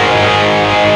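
Electric guitar through a distorted, crunchy amp tone from a BOSS eBAND JS-10, a loud sustained chord ringing alone without any voices.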